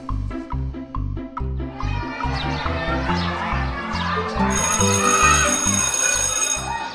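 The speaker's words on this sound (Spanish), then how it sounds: "Ya sonó el timbre." An electronic school bell plays a loud, bright melodic chime of repeated tones that rings on for about seven seconds with no talk over it.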